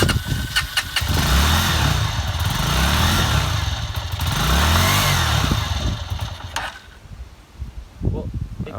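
A Honda CG125 motorcycle engine cranks with repeated rhythmic surges, then catches and runs roughly before cutting out. It is close and loud, with brief talk near the end.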